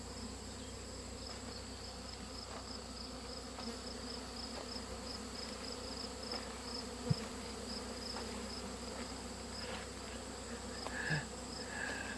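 A steady, faint hum of many honey bees buzzing continuously at a hive entrance, with no voices and only an occasional soft click.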